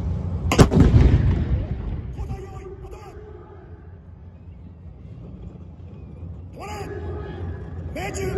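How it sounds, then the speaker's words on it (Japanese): A Type 74 tank's main gun fires once during a live-fire training demonstration at Itami garrison: a single loud, close blast near the start with a long rumbling decay, then an announcer speaks over a public address system. "最初に日本の戦車部隊のお家芸で74の得意技陽戦射撃で敵の戦車を撃破します。"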